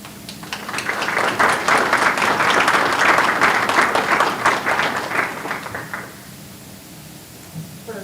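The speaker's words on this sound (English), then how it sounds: "while I appreciate you clapping for me" An audience at a National Technical Honor Society ceremony bursts into loud, sustained applause that swells for several seconds, then cuts off abruptly and leaves a quiet room.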